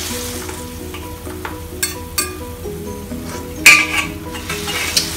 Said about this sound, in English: Let it boil for a while.